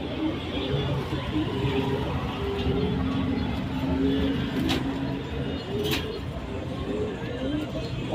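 Pigeons coo softly in a loft of Alexandrian pigeons, a low rolling murmur repeating under someone speaking, with occasional light rustles.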